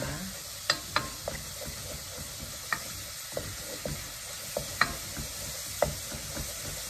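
Green curry paste stir-fried in olive oil for a Thai green chicken curry: soft, steady frying hiss with scattered light clicks and scrapes of stirring, no voices.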